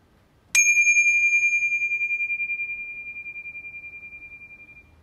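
A small handheld bell is struck once before a prayer in a quiet room, its clear high ring sustaining and slowly fading with a gentle wavering over about four seconds, alone with no talk.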